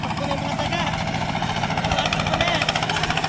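A tractor engine runs steadily close by in a field during a rat hunt, giving a rough, pulsing rumble. People talk over it.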